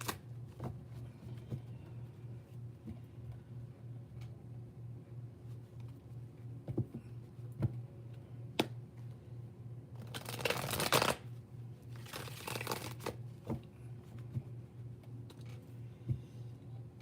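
Tarot cards are shuffled in quick papery riffling bursts, with scattered taps and clicks between them over a low steady hum, close to the microphone.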